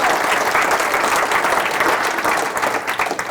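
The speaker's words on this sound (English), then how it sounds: "let's give Justin a round of applause for helping out" Loud, sustained audience applause for Justin at an Optimist Club talk, dense clapping continuing steadily throughout with no speech over it.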